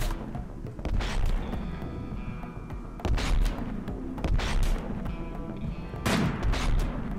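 Sniper rifles fire in a heavily modded RimWorld colony battle, three or four clusters of sharp shots spaced a few seconds apart, each trailing into rumble.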